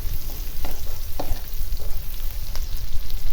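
Sautéed ingredients for ginisang monggo are stirred in a hot pan, a constant frying crackle broken by several scraping spoon strokes at uneven intervals, fairly close and loud, with no speech.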